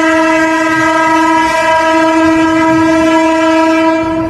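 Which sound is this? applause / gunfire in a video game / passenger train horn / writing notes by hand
passenger train horn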